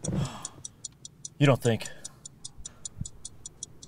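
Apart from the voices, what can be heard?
ticking sound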